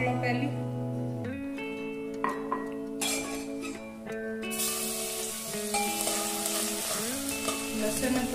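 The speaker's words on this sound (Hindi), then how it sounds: "लहसुन थोड़ा तेल में पका लो।" Crushed garlic sizzles steadily in hot oil, with a few clinks of a metal utensil against the pan. The frying hiss swells in the second half and stays quiet and close.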